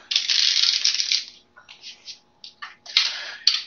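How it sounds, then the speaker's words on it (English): A deck of playing cards is riffled and bridged in several quick bursts, crisp fluttering near at hand with short pauses between, no talking. "while I'm shuffling this deck"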